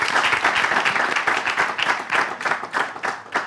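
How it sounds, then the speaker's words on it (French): Studio audience applauding steadily at a French television presenter competition, dense clapping throughout, fairly close and even in loudness. "que vous continuez d'applaudir à ma place"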